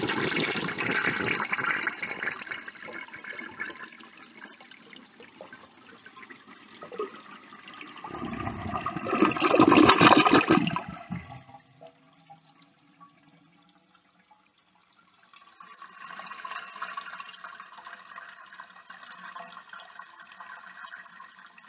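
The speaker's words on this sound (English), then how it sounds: "The tilt valve finally closed, and I didn't see any improvement in the flush." A 1957 Standard Cadet toilet fitted with a tilt valve flushes in a loud, close rush of water that fades, then after a quiet pause the tank refills with a steady hiss.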